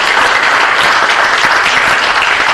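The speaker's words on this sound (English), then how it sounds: "Let's give him a big round of applause for all he's done." A city council meeting audience breaks into dense, loud applause, a continuous wash of many hands clapping for a few seconds.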